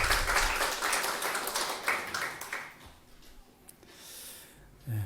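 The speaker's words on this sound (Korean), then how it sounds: "우리 하나님께 감사와 영광의 박수 올려드리겠습니다." A church congregation claps in praise during a Sunday worship service, a burst of many hands that fades after a few seconds into quieter room noise and scattered small sounds.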